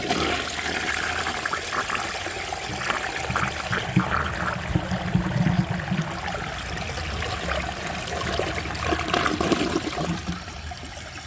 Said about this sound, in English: I'm guessing this will flush like a vintage toilet